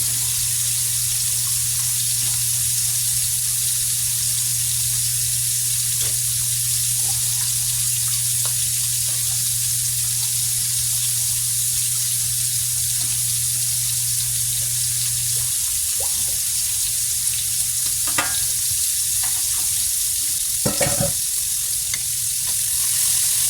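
Eggs frying in a pan alongside hash browns, a steady close sizzle running throughout with a low hum in the first part and a few sharper clatters near the end.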